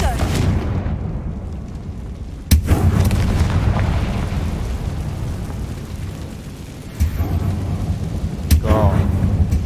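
Fiery Confringo spell blasts in Hogwarts Legacy, played on hard difficulty: a steady low rumbling roar with sharp booming impacts near 2.5 seconds and again around 7 and 8.7 seconds, loud and close throughout.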